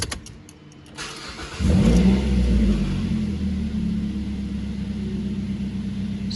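A 2012 Mazda 3 DOHC engine cranks and starts after a spark plug and coil pack change, catching with a loud surge and then settling into a steady, close idle rumble with no talking.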